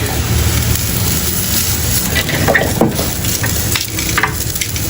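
A beef steak with butter on top sizzles steadily in a hot pan, a loud, continuous crackling hiss with no talking.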